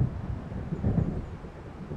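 Low distant thunder rumbles from an approaching storm in the video game Alan Wake, a steady muffled roll with a slight swell near the middle, no voices.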